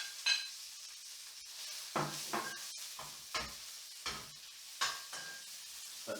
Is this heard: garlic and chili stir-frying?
yes